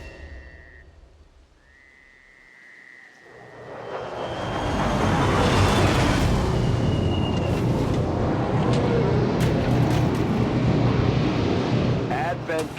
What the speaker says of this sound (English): Advent just airlifted out their first crate.